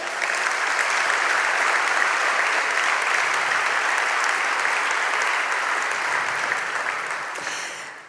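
Sustained audience applause at a municipal holiday awards ceremony in Domžale, Slovenia, a full even roar of many hands that holds steady for several seconds before tapering off at the end.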